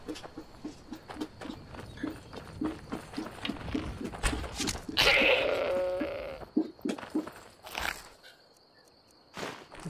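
A loud, wavering goat bleat in Skyrim VR rises in the middle, amid game noise and soft footsteps before and after.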